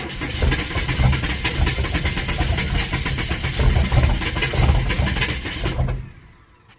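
A 6.5L turbo diesel engine running after glow plug cycling, a loud steady rattling clatter held close for several seconds before it cuts off abruptly.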